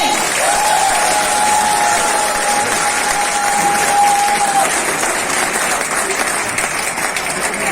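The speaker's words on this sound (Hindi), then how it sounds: "अगर पसंद आई हो हमारे ब्लू डायमंड की एंट्री तो प्लीज ताली तो बजाइए।" Sustained, dense audience applause fills a hotel hall during a training program, loud and even throughout, with a faint tone running under it for a few seconds.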